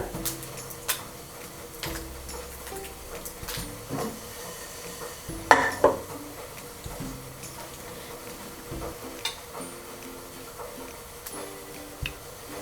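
Mustard seeds pop and crackle in hot coconut oil in a frying pan, a scattering of faint sharp ticks with one louder cluster midway, alongside quiet kitchen clinks.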